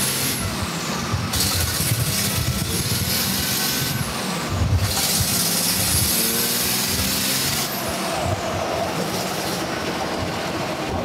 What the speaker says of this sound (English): Just that little turbo lights up.